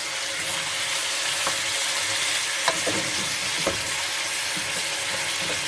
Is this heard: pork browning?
yes